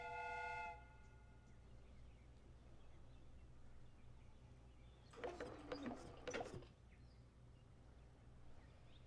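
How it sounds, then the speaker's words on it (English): Steam whistle in the video game Sherlock Holmes: Crimes and Punishments, a short tonal toot at the start followed later by a brief burst of mechanical clatter over a low steady hum. "The steam whistle is ready to be used."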